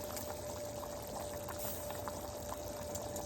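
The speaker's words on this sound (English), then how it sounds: "It's boiling, simmering." Steady bubbling and gurgling of a pot boiling and simmering on a stove during Sunday dinner cooking, a constant close wash of liquid noise with no talking.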